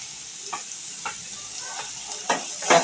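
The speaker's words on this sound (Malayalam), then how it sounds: "പച്ചമുളക് ഇട്ട് നല്ലോണം ഇളക്കി" Green chillies fry in a pan, a steady high sizzle broken by several sharp scraping stirs that grow louder toward the end, close and without talking.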